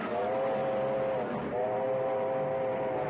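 A train in a short film rumbles steadily with a sustained whistle tone across the whole stretch, the whistle dipping briefly midway, loud and close with no talk.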